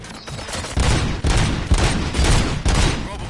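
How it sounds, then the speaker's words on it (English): Rapid bursts of video game gunfire from Robocop: Rogue City in quick succession, loud and close, several volleys over a few seconds. "Gunshots? What's going on?"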